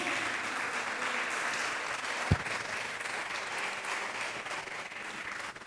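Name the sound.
church congregation applause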